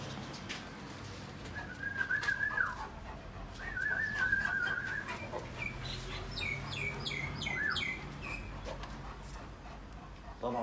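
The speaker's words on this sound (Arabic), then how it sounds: "هذا طائر المينا" A common myna calls outdoors with clear whistled notes and rapid chirping phrases that repeat over several seconds, moderately close against a low background rumble.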